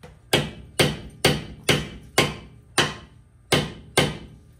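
A hammer knocks a stuck bolt on Kia brakes: eight sharp, evenly spaced metallic blows, loud and close, each ringing briefly before the next, with no talking.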